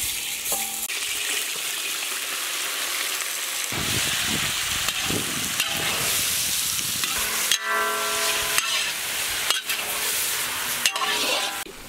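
Boneless chicken sizzles loudly in hot vegetable oil while being stirred, a steady frying hiss with scraping stirs, no voices present.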